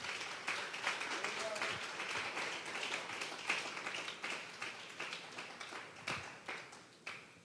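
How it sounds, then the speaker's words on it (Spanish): Church congregation applauding during a Spanish-language Sunday service, a steady spread of many hands clapping at moderate distance that gradually thins out, with some voices mixed in underneath. "Démosle un fuerte aplauso pues al Señor esta tarde."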